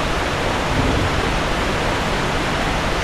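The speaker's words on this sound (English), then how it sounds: "I feel like I have to talk louder because it's a waterfall" A waterfall in the Earthen Peak area of a video game roars as a loud, dense, unbroken wash of rushing water.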